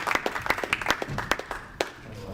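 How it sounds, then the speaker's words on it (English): A small audience gives a brief, sparse round of applause after a presentation, a handful of distinct claps close together that thin out and stop within a couple of seconds. "How about a big round of applause, please, for Daimien"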